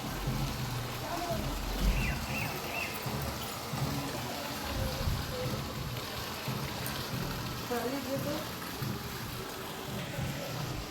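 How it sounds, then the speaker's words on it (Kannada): Rain begins falling outdoors near Guptkashi, a soft, steady patter of drops on surfaces throughout, faint and distant, with muffled voices in the background. "ಮಳೆ ಸ್ಟಾರ್ಟ್ ಆಗೋಯ್ತು ನೋಡಿ"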